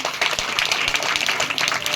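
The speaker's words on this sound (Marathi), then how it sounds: "वृषाली ताईंसाठी एकदा जोरदार टाळ्या होऊन देत बरं" Audience at a Marathi poetry event applauding for a woman on stage, a short burst of dense, steady clapping at moderate level with no voice over it.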